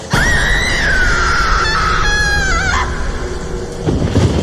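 A woman screams loudly in one long, wavering cry lasting a few seconds, then fades into rumbling background noise.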